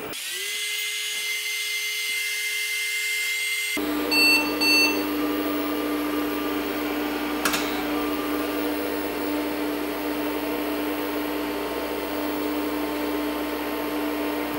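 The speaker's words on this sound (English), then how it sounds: "it should be booting off the Gotek right now because I can hear it whirring" An IBM XT 5160 PC boots from a Gotek floppy emulator, starting with a faint steady tone and then a broad machine whir with fan hum that holds steady to the end, with a brief click midway.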